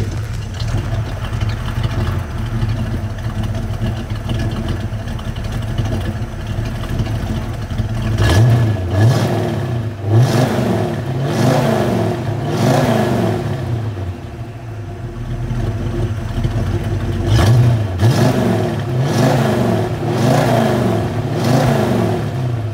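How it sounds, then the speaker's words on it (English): A 1964½ Ford Mustang convertible with dual exhaust idles at a low rumble, then is revved several times in two bursts of rising and falling throttle, loud and close with no talk. "Really nice tone from the dual exhaust."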